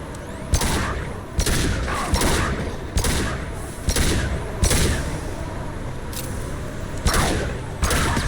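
Rifle gunfire from the Mass Effect 2 video game rings out as loud, sharp shots spaced roughly every half second to a second over a constant combat rumble.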